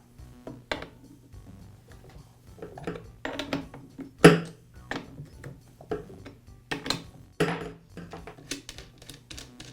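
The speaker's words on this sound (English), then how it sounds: "I'll remove the side cover by removing the two nuts and loosening the tension screw." Close metallic clicks, clinks and rattles come in irregular bursts as nuts and a side cover are taken off a Poulan chainsaw and a tension screw is loosened, with small tool taps and parts set down.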